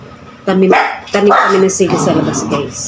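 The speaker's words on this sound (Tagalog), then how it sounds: "Pasensya na po sa aso." Dog barking outdoors in a Filipino home setting, several sharp bursts in two or three clusters, fairly loud and close, mixed with a person talking over and between the barks.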